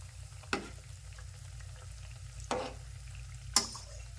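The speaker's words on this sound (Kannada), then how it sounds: "ಮತ್ತೊಮ್ಮೆ ಫ್ರೈ ಮಾಡ್ಕೊತೀನಿ ರೀ ಸೈಡ್ ಒಂದು ಸ್ವಲ್ಪ ಗೋಲ್ಡನ್ ಕಲರ್ ಹಂಗೆ ಫ್ರೈ ಮಾಡ್ಕೋಬೇಕು" Snacks frying in hot oil until golden and crisp: a faint, even sizzle over a low hum, punctuated by three distinct scraping clicks of a utensil, no voices.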